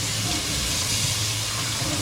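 Tap water runs steadily and loudly in a kitchen sink while pork tail is rinsed to wash off its spiciness, a continuous close hiss and splash with no talk.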